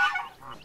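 A hen, just done raising chicks, gives a single short cluck that is nearby and fairly clear, then fades quickly.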